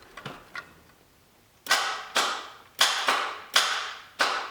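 Starter clicking on a Toyota AE86 engine with a dead battery and no ECU: two faint ticks, then five sharp, loud clicks at roughly half-second intervals, each ringing briefly in a quiet space.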